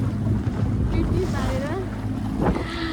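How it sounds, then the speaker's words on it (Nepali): Water waves splash and rush continuously against a boat during a ride, with wind buffeting the microphone and faint voices in the background. "यहाँ हेर्न सक्नुहुन्छ पानीको छाल उछलिरहेको छ"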